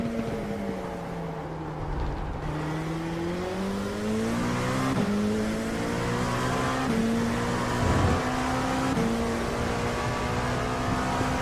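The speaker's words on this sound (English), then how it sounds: "There's a faster car approaching." An LMP2 race car at Silverstone during testing holds a steady droning engine note that shifts pitch through gear changes, with another faster car's sound approaching, loud and constant with no voices.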